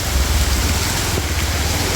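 Steady rain falling outdoors, a dense even hiss with a low rumble underneath, continuous and fairly loud with no voices.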